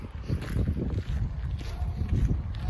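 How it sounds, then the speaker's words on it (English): Gusty wind buffeting the microphone, low rumbling bursts rising and falling in quick succession, with no talking. "Pretty windy. Kind of annoying."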